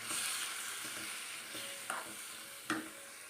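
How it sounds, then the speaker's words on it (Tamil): Onions and tomatoes sauté in a hot pan with steady sizzling and occasional stirring scrapes and clinks, close and continuous, no voices. "சேர்த்து இப்போ ரெண்டையும் நல்லா வதக்கி எடுத்துக்குவோம்."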